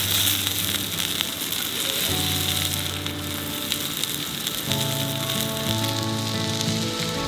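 Food frying in a simple pan over an open campfire at a beachside camp, a steady close hiss of sizzling with a faint crackle underneath and a low hum of background sound, no talk.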